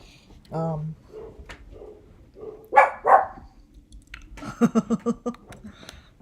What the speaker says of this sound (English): those dogs down there are loud and they'll bark like that if they hear someone